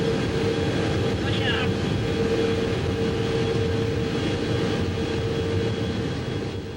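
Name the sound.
Boeing KC-135 Stratotanker aircraft beginning its journey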